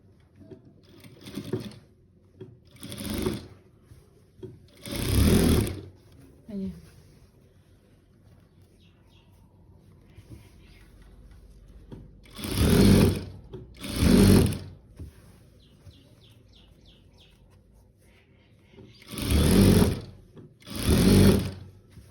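A sewing machine stitches a quilt in short loud bursts of rapid stitching separated by pauses, with quieter fabric handling and a faint voice in between.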